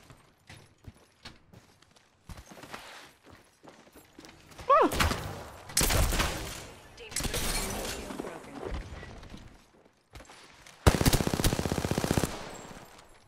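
Gunfire in a video game: loud bursts of automatic weapon fire come in several rapid volleys, with quieter clicks and footsteps between them.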